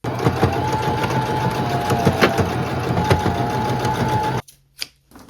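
A sewing machine runs a continuous straight stitch through thrifted clothing, a fast even mechanical whir close by, then it stops abruptly with a couple of small clicks at the end.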